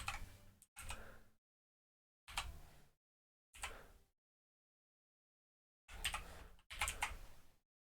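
Quiet, close keystrokes on a computer keyboard come in short bursts of rapid clicking separated by silent gaps, with two bursts early, two in the middle and a longer pair near the end.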